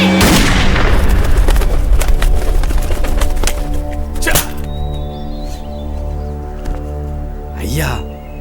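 A gunshot rings out at a target in a Tamil movie scene, a sharp loud blast with a decaying echo, followed by a few further sharp cracks and impacts under a sustained musical drone.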